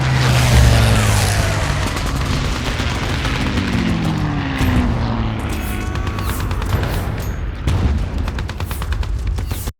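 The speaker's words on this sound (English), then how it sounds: "you have airplanes flying right over your head" Loud propeller aircraft roar past overhead amid heavy booms, incoming mortar rounds and rumbling in a battle, a dense, wide-ranging wash of engine noise that swells and fades without letup.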